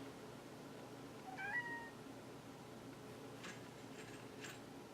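A pet cat named Charlie gives one soft, rising meow in a quiet room, followed a couple of seconds later by faint scattered ticking sounds.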